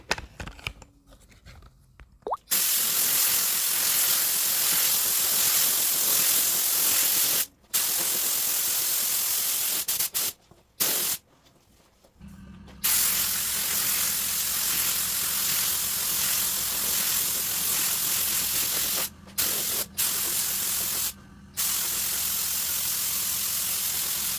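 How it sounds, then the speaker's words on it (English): Bursts of spray paint hiss loudly and continuously as clear coat is sprayed over a Honda finish, broken by several short pauses between passes. "let's go ahead and spray some clear"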